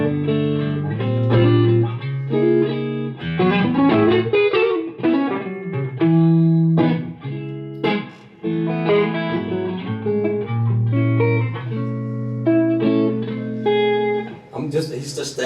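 Electric guitar through a Victory Deputy amp, sounding clean chords and single-note lines with the reverb set at 12 o'clock, loud and close, ringing notes trailing into a wash of reverb.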